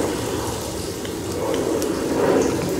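Bathroom tap water runs steadily into a sink while a face is wetted, a continuous broadband splashing and gurgling that swells slightly near the end, close and fairly loud, with no talking.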